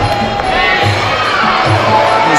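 A heaving crowd at the Watford Coliseum roars and cheers steadily throughout a fight, loud and dense with scattered shouts.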